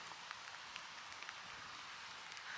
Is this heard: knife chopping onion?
no